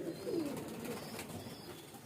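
A hand-held pigeon gives one soft, low coo near the start, faint over quiet steady background noise.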